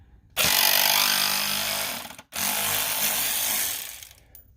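A power tool whirs loudly while backing out T25 screws holding the intercooler of a BMW 335i E90 with an N54 engine, running in two long bursts separated by a brief pause.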